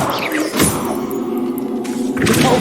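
A Confringo blasting spell strikes in Hogwarts Legacy, landing as a loud, heavy thud with a crackling burst, followed by a second impact near the end, with no talk over it.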